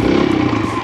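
Close, steady engine roar from a Kawasaki KLX140RF dirt bike held at high revs for a brief moment during a wheelie attempt, with no speech over it.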